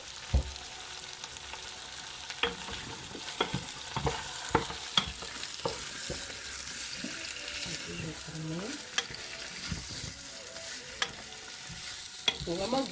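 Cabbage frying in a pan over high heat, a soft continuous sizzle broken by repeated scraping and clacking stirs of a utensil against the pan, with no talking.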